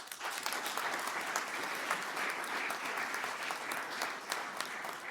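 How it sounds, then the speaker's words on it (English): An audience at a boy child engagement event gives a sustained round of applause: dense, even clapping that holds steady and fairly far off for the whole stretch, with no speech over it. "I think he deserves a big round of applause."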